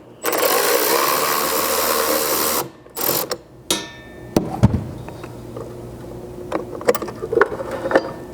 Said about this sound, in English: this is where you'll need to first grab your 7mm socket. It's just got one screw down here on the bottom.